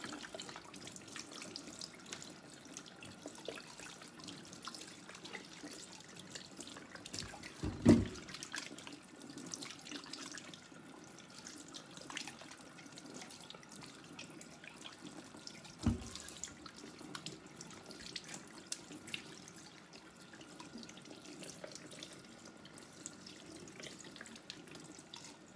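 Fish being washed under a running tap, a steady soft splash of water with occasional louder sloshes and knocks as the fish is handled in the sink.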